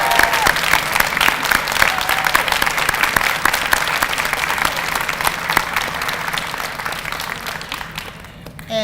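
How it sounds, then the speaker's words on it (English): Sustained applause from an audience honoring nursing faculty at a registered nursing pinning ceremony, a steady dense roll of clapping that gradually thins toward the end. "why don't we give them a big round of applause"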